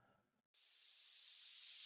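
A down lifter sweep for a deep house track sounds alone, a sudden loud burst of bright white noise that holds for over a second and then cuts off abruptly.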